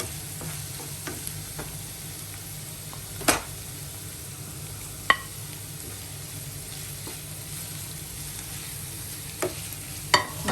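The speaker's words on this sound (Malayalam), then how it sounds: "പിന്നെ കറിവേപ്പില കൂടെ നമ്മൾ ഇതിനകത്തേക്ക് ഇട്ട് കൊടുക്കാം." Faint steady sizzle of samosa filling frying in a pan with curry leaves, an even hiss with a few sharp clinks of a spoon or pan at intervals.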